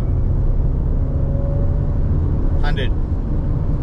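A Mahindra XUV700 accelerates hard through its gears, heard from inside as a loud, continuous low engine and road rumble, with a brief voice cutting in partway through.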